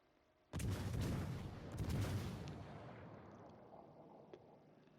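Battleship main guns in the naval game World of Warships: Legends fire in a heavy booming salvo, a second rolling blast following about a second later, then a long rumbling decay.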